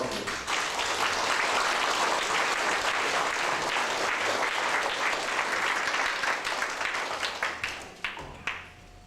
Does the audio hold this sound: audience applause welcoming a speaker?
yes